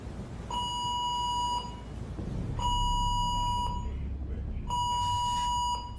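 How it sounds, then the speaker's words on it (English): Fire alarm aboard the Queen Mary 2 cruise ship, sounding three long, evenly spaced electronic tones of about a second each over low background rumble. "We got also fire alarm activated, cabin 54."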